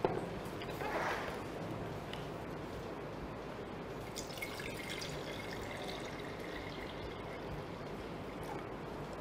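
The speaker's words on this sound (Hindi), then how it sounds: "इसमें भी ज़रा पानी डाल दीजिए, तो इतना ही पानी डाल दीजिए जितना इसमें ऑलमोस्ट" Water poured into a glass beaker during a classroom physics demonstration, heard as a soft, steady splashing wash that runs through the whole stretch with faint room noise behind it.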